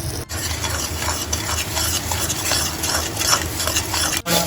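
Jackfruit and prawn masala stirred and fried in a pan, a steady close scraping and soft sizzle running throughout with a brief dip near the start and end.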